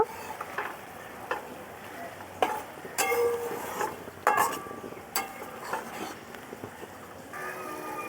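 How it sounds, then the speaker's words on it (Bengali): Potatoes sautéed with spices in a pan while cooking an egg omelette curry, giving off a soft sizzle with repeated scraping and stirring strokes of a spatula at close range, no talking. "কিছুক্ষণের জন্য মশলার সঙ্গে আলুটাকে ভালো করে কষিয়ে নেব।"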